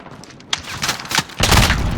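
Cruise missile strike explosions in Call of Duty Modern Warfare: a sharp blast, then a series of rumbling booms that build into a loud, sustained roar of detonations near the end.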